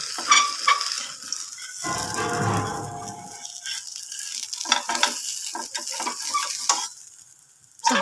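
Dhapate, a Maharashtrian flatbread, sautéed and stirred in oil in a pan, giving a steady close sizzle with scraping and clinking of the spatula that swells in the middle and carries on alone without talk.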